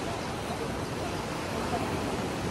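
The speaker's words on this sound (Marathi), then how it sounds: "खूप पाणी वाहून. लाटा कशा समुद्राच्या येतात तशी अवस्था इथं बघायला भेटते" The swollen Vashishti river in Konkan rushes in heavy flood, a dense, steady roar of churning water and waves, with a voice speaking over it.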